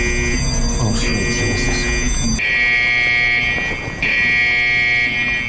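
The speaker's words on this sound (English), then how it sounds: "The next day, everyone woke up to a sudden alarm." Alarm in a sci-fi movie, a loud continuous electronic buzzing tone that blares steadily, pausing only briefly before resuming, with no talk over it.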